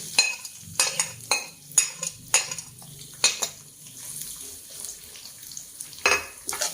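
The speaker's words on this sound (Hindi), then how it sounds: "अब हमारा प्याज फ्राई होना शुरू हो गया" Onions fry in oil left over from frying okra, a soft sizzle in the pan broken by repeated sharp clinks and scrapes of a utensil stirring against the metal.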